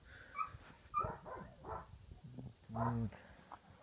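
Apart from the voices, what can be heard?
dog barking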